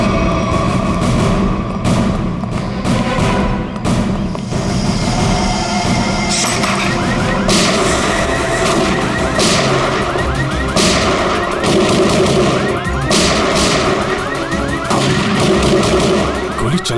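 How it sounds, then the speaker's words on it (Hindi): Gunfire in a CID TV crime drama set in a jungle comes as repeated sharp cracks over a dense, loud, continuous bed of clattering, rumbling noise, with no voices. "गोली चला कौन रहा है?"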